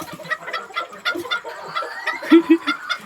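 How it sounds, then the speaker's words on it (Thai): Bantam chickens at a farm in Khon Kaen cluck loudly and repeatedly, a busy overlapping chorus of short calls with a couple of louder, closer squawks near the end. "มันก็จะมีพวกจอมป่วนที่ชอบร้องเสียงดัง ไก่เสียงดัง"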